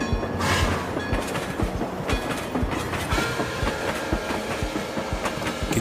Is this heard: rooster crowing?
no